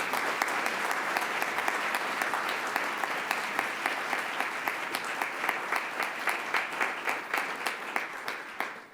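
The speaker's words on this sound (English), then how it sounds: "Let's give them all a round of applause, please." Warm audience applause at a Columbus Metropolitan Club forum, dense and steady at first, then thinning into distinct individual claps as it tapers toward the end.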